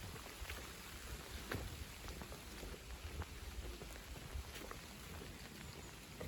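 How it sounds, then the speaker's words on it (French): Steady rain patters on a surface with scattered louder drops, a soft continuous hiss, no voices. "ça y est, ça pleut."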